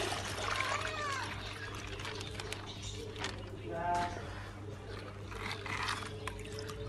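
Water poured and strained through a sieve for village fish farming, a steady trickling pour with light splashes over a constant low hum, fairly quiet throughout.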